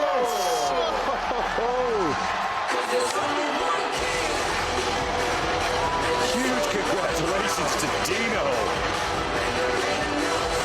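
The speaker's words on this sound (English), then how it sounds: "This crowd is erupting right now." Roaring arena crowd at the 2025 Mr. Olympia bodybuilding contest, a loud continuous wall of cheering and shouting throughout, with an announcer talking over it.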